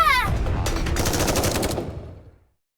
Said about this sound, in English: The sound of gunshots as Exia collapses.